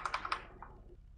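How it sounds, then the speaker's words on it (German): Quick burst of computer keyboard typing, a handful of close, sharp key taps in rapid succession that trail off, heard alone during a GTA V Online gaming session. "Immer dieses Klopfen auf die Tastatur"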